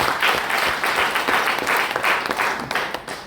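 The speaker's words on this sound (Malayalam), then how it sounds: "നല്ല കൈയടിച്ചോളൂ" Sustained applause from a training-program audience, dense and steady clapping filling the whole stretch at close range with no talk over it.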